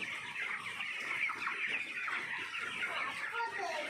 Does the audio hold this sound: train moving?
no